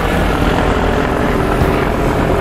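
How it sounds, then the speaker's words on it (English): Helicopters fly nearby over a river where smallmouth bass are being fished, a steady loud rotor and engine drone filling the scene without a break, with no voices on top. "There are helicopters all around."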